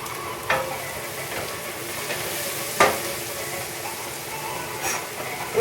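Cremini mushrooms and zucchini sauté in a pan with a continuous close sizzle, broken by a few sharp clatters and scrapes of stirring; no one speaks.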